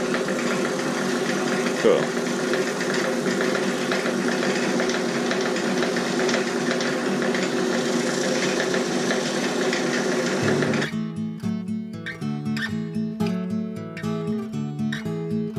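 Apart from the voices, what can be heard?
woodturning lathe spinning oak bowl up to speed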